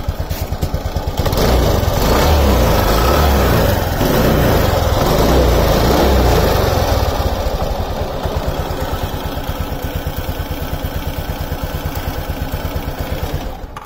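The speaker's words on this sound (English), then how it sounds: "Heard the engine voice before adding the additive." A Suzuki Access 125 scooter's engine, before an oil additive is added, runs close by, blipping up in revs for several seconds, then dropping back to a steady, rhythmic idle chug.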